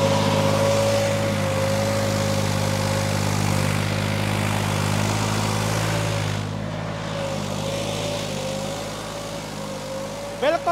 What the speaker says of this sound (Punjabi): ਬਿਲਕੁਲ 2000 ਆਰਪੀਐਮ ਦੇ ਟਰੈਕਟਰ ਚੱਲ ਰਿਹਾ